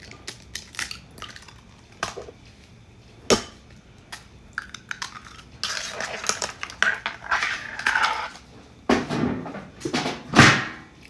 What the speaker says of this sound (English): crack the eggs into the bowl 3 times